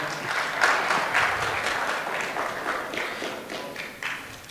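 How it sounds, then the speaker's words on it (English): A sales rally crowd applauds a man named Thomas, with dense, steady clapping that swells early and then slowly tapers over several seconds. "give Thomas a round of applause"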